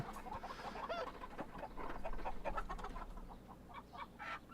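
Chickens clucking in the farm video game Farm Manager World, several birds chattering and clucking in quick irregular bursts, fairly quiet and with no talk.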